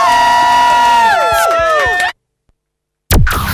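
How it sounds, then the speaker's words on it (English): A big crowd cheers and whistles at a university student radio station's final hour of broadcast in Manchester, loud and sustained, then cuts to silence before a burst of noise returns. "Big cheer!"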